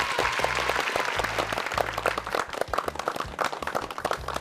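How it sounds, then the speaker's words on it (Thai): Audience applause at a Thai tour stop outside Tham Luang–Khun Nam Nang Non cave, steady dense clapping throughout with voices and low rumbling beneath, fairly close and continuous. "เราก็ต้องปรบมือด้วยความชื่นชมยินดี"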